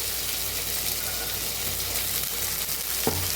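Tomato and green chili for a chickpea curry fry steadily in a pan, giving an even close sizzle with one small knock near the end.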